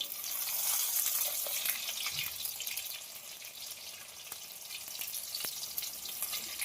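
Fish pieces frying in oil over a medium flame, giving a steady, moderately loud crackling sizzle throughout with scattered small pops and no talking.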